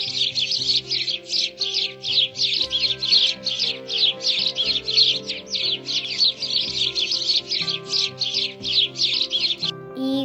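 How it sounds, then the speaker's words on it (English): A sparrow chirps in a fast, unbroken string of bright, high tweets lasting throughout, set against quiet background music. "Sparrow makes chirp sound."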